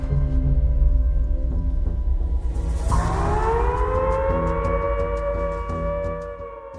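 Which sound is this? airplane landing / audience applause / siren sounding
siren sounding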